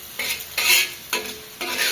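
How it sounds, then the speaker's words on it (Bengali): A lentil, onion and garlic mix frying in oil is stirred with a utensil in four distinct scraping bursts over a continuous close sizzle. "এই যে ভাজা ভাজা করে নিচ্ছি"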